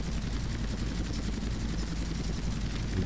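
A helicopter in GTA San Andreas flies with a steady, loud rotor thrum and engine whine that continues without a break throughout, with no talk over it.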